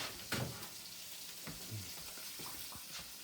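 Mushrooms frying in a pan over high heat, a soft steady sizzle with scattered crackles and a few light utensil taps, fairly quiet and with no talk.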